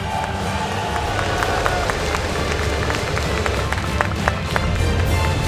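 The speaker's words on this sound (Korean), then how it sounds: "큰 함성과 뜨거운 박수를 보내주십시오" An arena crowd at a Korean StarCraft league final cheers and applauds the tournament winner, dense clapping and shouting swelling throughout, with an announcer's voice over the noise.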